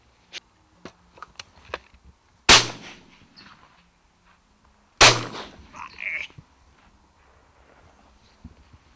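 Two loud shotgun blasts a few seconds apart during sea duck hunting over decoys, each with a sharp crack and rolling echo, amid scattered clinks and handling noises outdoors.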